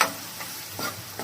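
Onion, garlic and chili paste frying in oil for a spinach onion-chili curry, a brief steady sizzle with a couple of soft stirring scrapes up close.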